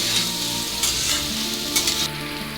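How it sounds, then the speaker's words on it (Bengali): Cauliflower sautéing in a pan sizzles loudly and close, with a few quick stirring scrapes over a soft musical background. "এবার আমি ফুলকপিটা দিয়ে আর একটু ভালোভাবে কষিয়ে নেব।"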